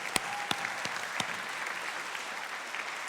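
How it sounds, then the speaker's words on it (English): Applause from an audience at an awards gala, a dense steady clatter of many hands clapping with a few sharp louder claps standing out near the start, sustained throughout. "One more time, a round of applause."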